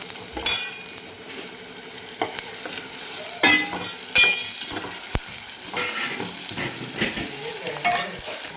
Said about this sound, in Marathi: 1 मध्यम आकाराचा कांदा टाकायचा आणि कांदा आपल्याला सोनेरी कलरवर परतून घ्यायचा आहे.